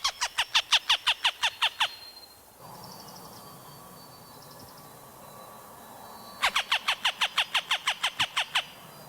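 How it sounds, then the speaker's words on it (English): Northern Harrier calling on a prairie marsh: two bursts of about ten rapid, evenly spaced sharp notes, separated by a quieter gap, clear and fairly close with no talk. "the call of the Northern Harrier"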